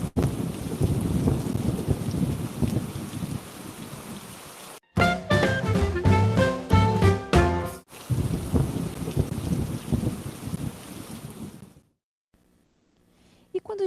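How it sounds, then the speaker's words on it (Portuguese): A thunderstorm with heavy rain pours steadily with rumbling thunder. A short musical passage breaks in midway before the storm returns, and the sound drops to near silence at the end. "quando as gotas de água ficam maiores, as nuvens ficam muito pesadas e a chuva cai"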